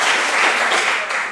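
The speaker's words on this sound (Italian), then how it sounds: "È un applauso in diretta." Live audience applause in an indoor hall during an Italian book presentation, a steady dense wash of clapping from a crowd, moderately loud and sustained throughout without pause.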